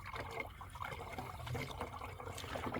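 Liquid soil herbicide being poured into a container, a soft, steady trickling splash heard close by and fairly quiet throughout.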